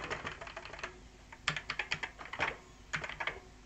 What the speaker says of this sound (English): Bloody keyboards.